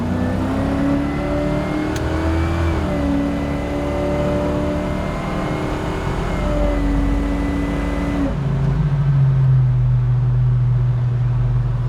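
A 1970 Chevrolet Chevelle SS V8 pulls steadily on the road in Daytona Beach, its engine tone climbing through gear changes, then easing to a lower, steady drone as the throttle lifts.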